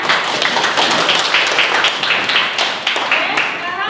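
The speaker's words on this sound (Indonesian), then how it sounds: "Beri tepuk tangan." Students in a classroom clap together, a group applause with a loose rhythmic pulse of hand claps, fairly loud and close, continuing throughout with some voices mixed in.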